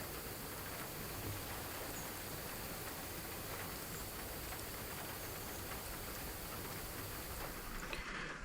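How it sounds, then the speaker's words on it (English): Steady rain falls outdoors during a cold deer hunt, a dense, even hiss of drops that holds at a constant level throughout, with no talk over it. "The rain's picked up just a little bit and the temperature's dropping."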